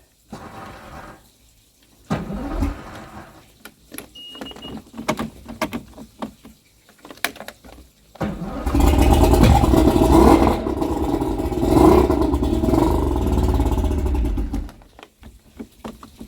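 A 1992 Mercury Blackmax outboard engine cranks with clattering starts, then catches and roars loudly at high revs for several seconds before cutting back, on a cold day.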